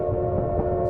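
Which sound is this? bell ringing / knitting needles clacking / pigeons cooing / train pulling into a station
train pulling into a station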